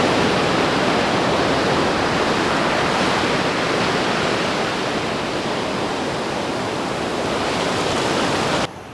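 Ocean waves along a seaside beach coast, a loud, continuous broadband wash of surf filling the whole stretch with no distinct breaks, steady and close, with no voices over it.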